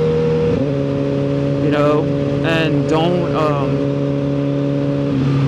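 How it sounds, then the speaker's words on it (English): A Suzuki GSXR 1000R motorcycle riding in the rain, its engine droning steadily while a rider talks over it, with a few brief rising revs as it shifts. "use your engine braking, you know, downshift if you can"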